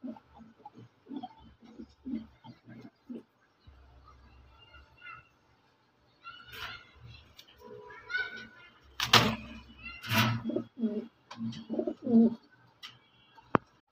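White Beauty running pigeons coo in a series of soft, low pulses, joined by scattered chirps, clatter and brief louder noises nearby.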